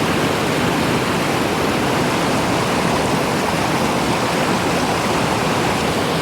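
A waterfall swollen by heavy rain roars steadily up close in Washington State, a dense, unbroken rush of water filling the whole clip with no voices.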